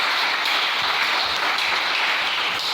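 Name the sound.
congregation applauding to acclaim the Lord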